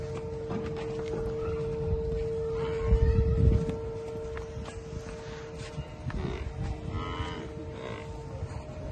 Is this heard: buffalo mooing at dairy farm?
yes